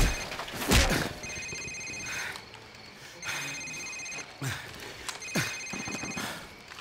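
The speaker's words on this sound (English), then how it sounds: "Sir, it's his cell phone." Cell phone ringing in Call of Duty 4: Modern Warfare, a repeating electronic ring that sounds in three bursts over about six seconds, mixed with sharp thuds and clatter from a tense interrogation scene.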